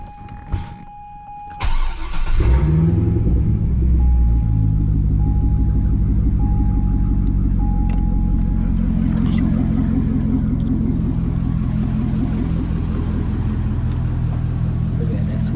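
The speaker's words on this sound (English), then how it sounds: "I'm gonna start the car." A C6 Corvette engine cranks briefly, catches, and settles into a steady, loud rumbling idle, with a thin electronic beeping tone early on.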